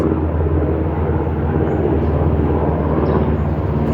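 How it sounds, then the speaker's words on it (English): A steady, continuous low rumble of a helicopter passing overhead, droning evenly throughout without interruption. "hear the helicopter?"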